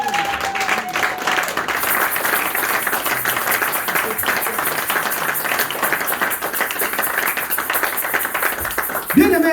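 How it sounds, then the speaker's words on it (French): A church congregation applauds for the Lord in a dense, steady roar of clapping that stays loud throughout, with voices mixed into it. "Laissez-moi acclamer pour le Seigneur."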